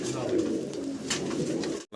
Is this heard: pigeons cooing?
yes